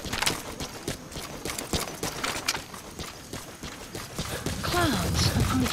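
A horse's hooves clip-clop at a steady walking pace in the Metal Gear Solid V: The Phantom Pain video game, a string of close, crisp hits, and near the end a gliding whistle-like tone rises over a swelling rumble.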